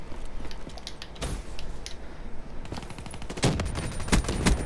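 VMP submachine gun in Call of Duty Black Ops 3 firing in quick, loud bursts of rapid shots, with a short burst early on and a longer sustained string of sharp cracks toward the end.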